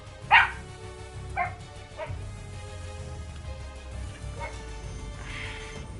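Several dogs barking, a sharp loud bark followed by a few softer, more distant yips and barks spaced over a few seconds, with low background rumble.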